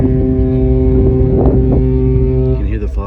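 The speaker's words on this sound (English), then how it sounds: "You can hear the foghorns because we're coming into fog." A cruise ship's foghorn blares while the ship sails into fog, a loud, steady low drone that holds for over two seconds, with wind noise and a brief voice near the end.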